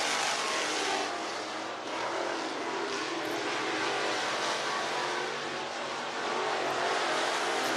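Late model race cars on hot-lap qualifying at I-75 Raceway in Niota, Tennessee make a steady, dense roar that fills the air without a break, several engines blending at a distance.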